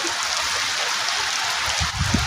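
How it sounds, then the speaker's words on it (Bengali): Rain pattering on a rooftop veranda: a dense, close, continuous patter of drops with no voices. "দেখুন, অনেক সুন্দর বৃষ্টিগুলো টাপুর টুপুরভাবে পড়ছে"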